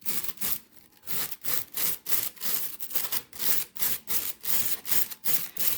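A stiff brush picks backwards and scrapes at carved foam on a model layout, rapid regular rasping strokes repeating about twice a second, close and loud, with no voices.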